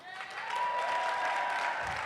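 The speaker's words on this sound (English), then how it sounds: "Let's give them a round of applause." A crowd at an all-campus gathering claps for a senior volunteer, a fairly soft, steady round of applause with a held tone and some voices underneath.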